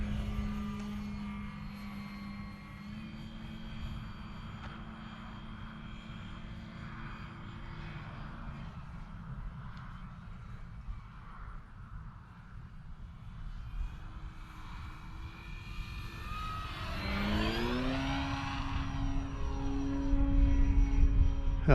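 FMS Ranger 1800mm RC propeller plane flying, a steady buzzing electric motor whine that holds nearly constant, then rises sharply in pitch near the end as the throttle opens, heard from the ground amid outdoor noise.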